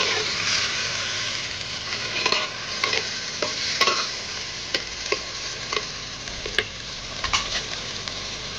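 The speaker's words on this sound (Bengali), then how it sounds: "এবারে একটু নাড়াচাড়া দিয়েই" Mutton being stirred in a clay pot (malsa) as it cooks in released oil, with a steady sizzle under repeated scraping strokes of a spoon against the pot, close and unbroken, without voices.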